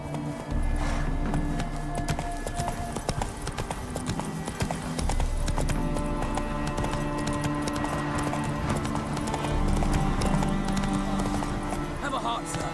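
Horse hooves clip-clopping at a run in The Witcher 3: Wild Hunt on the streets of Novigrad, steady and close throughout, with townsfolk voices and game ambience layered over the hoofbeats.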